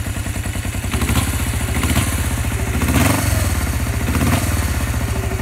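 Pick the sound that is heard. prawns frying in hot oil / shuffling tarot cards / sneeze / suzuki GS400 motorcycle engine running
suzuki GS400 motorcycle engine running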